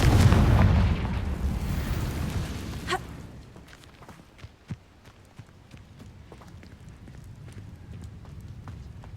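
A Confringo fire spell in Hogwarts Legacy bursts in a loud, heavy explosion that rumbles and fades, followed by a sharp crack and scattered faint thuds and clicks.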